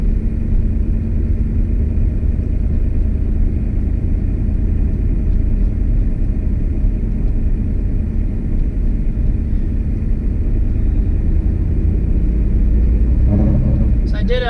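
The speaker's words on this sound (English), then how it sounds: "I'm going for a little short drive, and I'm gonna do a couple of pulls here." Turbocharged Cadillac Escalade during a boost pull, a steady loud engine rumble from inside the cabin running throughout with little change in level, rising slightly near the end.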